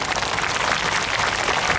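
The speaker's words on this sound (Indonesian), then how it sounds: "Tepuk tangan tuh Pak Lurah." Audience applause for a village head at a gathering, a brief dense wash of clapping heard steadily throughout.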